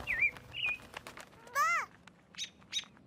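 A cartoon red bird chirps outdoors in a sunny spot, a few bright rising tweets and short trills spaced across the moment, fairly soft over a light background.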